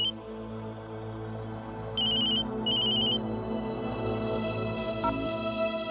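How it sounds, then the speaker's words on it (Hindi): Mobile phone ringing indoors, a repeating electronic ringtone with bright chiming bursts that recur in a steady pattern over a low background hum, moderately loud and clear with no talk. "कुणाल, तुम्हारा फोन बज रहा है।"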